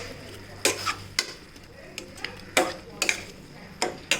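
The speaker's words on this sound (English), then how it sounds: "So increase the flame to medium and then just give a mix together." A spoon stirring egg and peas masala after half a cup of water is added to a pan over a medium flame: close scraping and tapping strokes at an uneven pace over a faint hum, with no talk.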